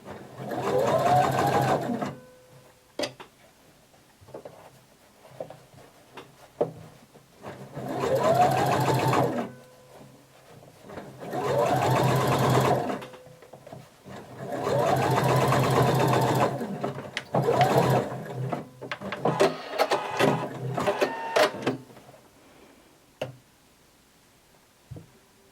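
A sewing machine runs gathering stitches on a maxi dress in four or five bursts of a few seconds each, with short clicks and handling noises between runs and faint speech at times.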